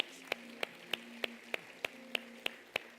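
A church congregation claps together in a steady, even beat of sharp single claps, about three per second, over a held musical tone and faint background sound.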